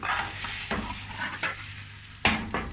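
Börek sizzles in oil in a frying pan, a continuous close crackle with a few soft scrapes as the pastry is handled.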